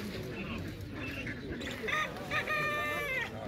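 Hens cluck among other fowl at an outdoor bird market in Kropotkin, a busy mix of clucks and chirps over crowd chatter, with birdsong whistles rising toward the end.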